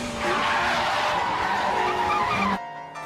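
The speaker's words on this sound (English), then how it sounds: "The back tires are starting to lose their grip." Tires skid and squeal as a car loses rear grip in the Initial D racing game, a Toyota AE86 Trueno turbo against another 86, a loud continuous screech lasting most of the clip before cutting off abruptly.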